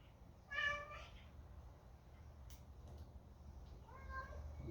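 A cat meows twice, a short near cry at the start and a softer one near the end, over faint background noise.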